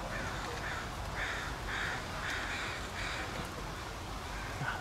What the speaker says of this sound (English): We were distracted by a crow.